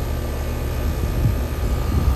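A frozen outdoor HVAC unit starts up after its defrost cycle with a steady broadband whoosh of the fan and a low mechanical rumble that swells slightly toward the end, with no talking.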